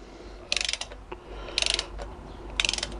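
A ratchet tightens the cylinder head bolts on a Virago 125 motorcycle in three short bursts of rapid, close clicking, separated by quiet pauses with faint handling noises.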